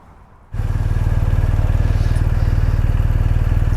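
A 2020 BMW R1250 R boxer-twin motorcycle rated at 136 horsepower fires up abruptly and settles into a loud, close idle with a steady, rapid, even pulse.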